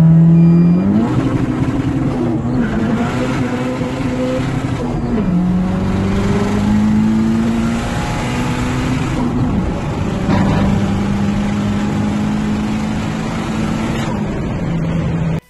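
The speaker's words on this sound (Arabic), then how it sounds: "فسيفيك تيربو قرا عادي يعني ما شاء الله، تسارع اكيد بيكون" A turbocharged Honda Civic accelerates hard with no external modifications, its engine climbing through several rising gear pulls and shifts, loud and close throughout.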